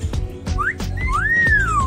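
A person whistles two short rising-and-falling tones, the second longer and sweeping, close and clear over low background rumble and faint chatter.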